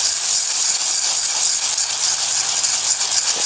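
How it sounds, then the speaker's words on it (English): Cooking oil poured into a hot pan, producing a loud, continuous hiss of sizzling that stays dense and unbroken throughout, close up with no other sounds. "I'm going to add a little bit of oil here, cooking oil."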